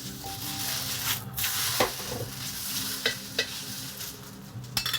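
Rice noodles fry in oil in a hot wok for Hong Kong-style satay beef chow fun, giving a steady close sizzle with a few scraping stirs and clacks of the spatula.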